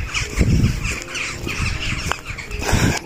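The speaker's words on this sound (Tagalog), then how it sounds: "ang ingay ng mga ibon" Several birds caw and squawk noisily at close range in snowy Sweden, overlapping in bursts with no pauses.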